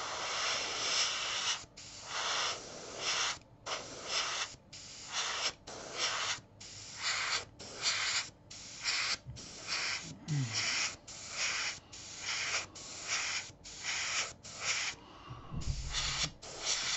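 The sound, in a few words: airbrush spraying thinned Revell Aqua paint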